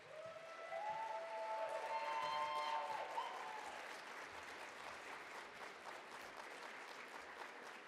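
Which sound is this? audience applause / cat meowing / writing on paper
audience applause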